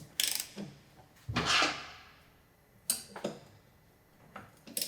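A ratchet wrench works the lower rear shock bolt on a Kawasaki Ninja 400 sportbike, giving loud, sharp bursts of clicking that recur several times with short pauses between them, heard alone without talk.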